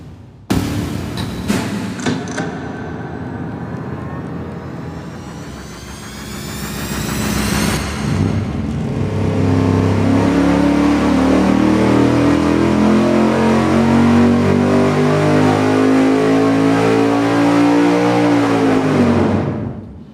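A V8 engine with a 4-7 firing order swap roars on a dyno, first blipping in short bursts, then winding up in one long, loud, rising pull before cutting off sharply.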